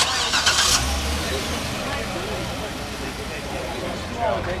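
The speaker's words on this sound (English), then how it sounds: "Some of the cars are taking off already." Cars at a Cars & Coffee meet in San Dimas starting up and pulling away, a steady mid-range engine drone with a brief louder burst near the start, heard close over crowd chatter and talk.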